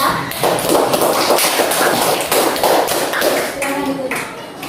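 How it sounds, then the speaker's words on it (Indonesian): Students in a classroom clap for a discussion group, producing a rapid, continuous patter of hand claps at a fairly close, steady level with voices mixed in. "Tepuk tangan dulu untuk kelompok 3"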